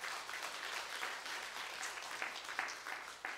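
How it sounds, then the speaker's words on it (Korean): Church congregation giving congratulatory applause during a service, a sustained round of many hands clapping at a steady level, with a few louder claps standing out near the end. "축하 박수를 한번 올리겠습니다."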